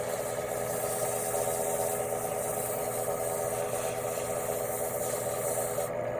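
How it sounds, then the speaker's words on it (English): Sandpaper rubs a spinning wooden pen blank on a lathe, producing a continuous, even rasping hiss over the motor's steady hum at close range. "You don't need to burn your sandpaper, burn the wood, use up your sandpaper, and just move right along. And get them sanded."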